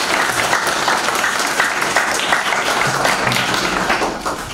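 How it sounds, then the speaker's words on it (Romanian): Sustained audience applause at a book launch welcoming the author, a dense continuous patter of clapping from a crowd, fairly loud and close. "Haideți să-l aplaudăm pe Victor Tuba."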